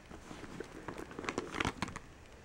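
Paper is handled and crinkled up close in short, soft crackling rustles, fairly quiet, with no speech.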